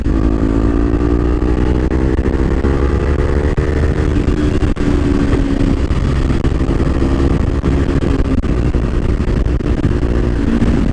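A Kawasaki Ninja 300 motorcycle ridden at night along an empty road gives a loud, steady engine drone close to the microphone, with a slight drop in pitch partway through as the rider cruises on.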